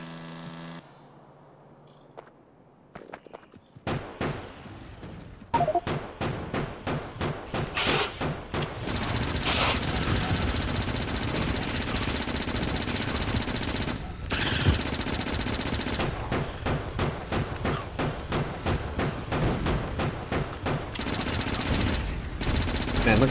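Gun turrets firing in Factorio, a dense run of rapid automatic shots that starts after a few quiet seconds and keeps up steadily, loud and close, with volleys overlapping over a low hum.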